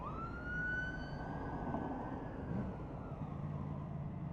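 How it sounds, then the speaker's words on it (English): An ambulance siren sounds along a Lake District road near Ings and Windermere, its wailing tone sliding slowly in pitch as it passes, heard over steady motorcycle engine and wind noise. "just an ambulance trying to get by."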